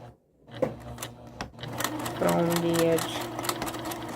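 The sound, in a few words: sewing machine stitching a seam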